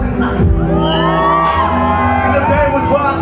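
Concert crowd at The Novo shouting, whooping and cheering loudly at a show, a dense wall of raised voices swelling and falling over a few seconds.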